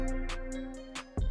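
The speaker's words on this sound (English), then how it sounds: "for the first sound we're going to be using a plugin called Omnisphere, and the preset is called Living OB PWM Res" Omnisphere's Living OB PWM Res synth preset holds a sustained, buzzy resonant chord with a warm low end, while light ticking percussion hits sit on top, ending in a heavier low thump.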